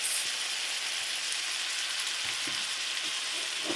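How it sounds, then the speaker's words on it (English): Ground sausage fries in a pan with a dense, steady sizzle and crackle that holds evenly throughout, close and fairly loud, without any voices. "ground sausage is still cooking, but almost done."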